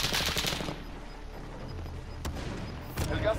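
Bursts of gunfire from Call of Duty Warzone crack at the start and again near the end, with a sharp single shot between, all over a low ambient game bed.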